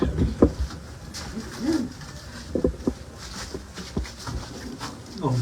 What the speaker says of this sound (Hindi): 2000 ब्रीड का एक और कबूतर, ये भी बाजी प्यारे में उड़ रहा है जी